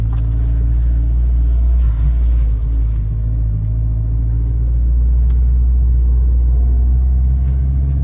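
Interior of a 2012 Fiat 500 Abarth on the move, a loud continuous low engine and road rumble with steady drone and slight rises in pitch, heard from inside the cabin.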